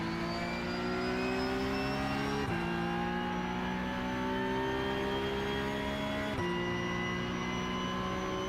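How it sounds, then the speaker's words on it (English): A Porsche Cup car in iRacing holds its engine on the pit limiter, a loud, sustained buzzing drone that cuts and restarts twice in a stuttering, cackling pattern, close and continuous. "The pit limiter of the Porsche sounds like an evil laugh"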